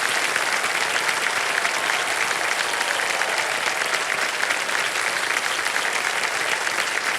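A studio audience on a Hindi quiz show applauds steadily and densely for the full stretch, a loud sustained wash of many hands without a break.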